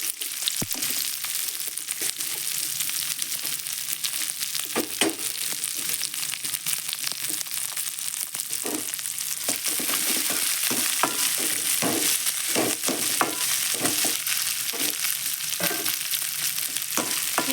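Cowpea pods (karamani) for a poriyal are sautéed in a pan, giving a continuous close sizzle broken by repeated scraping and clacking strokes of a spatula stirring them, with no talking.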